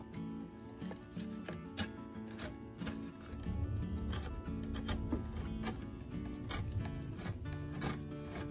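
A knife scraping and cutting worn old upholstery off a caneback chair frame, with repeated sharp scraping strokes in an irregular rhythm, close and fairly loud, with no talking.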